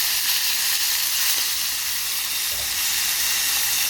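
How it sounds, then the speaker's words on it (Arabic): Garlic cloves sizzle hard in a hot pan as vinegar is poured in, a steady bright hiss that runs close and loud throughout with no voices. "هنطفي فصين الثوم بشويه الخل"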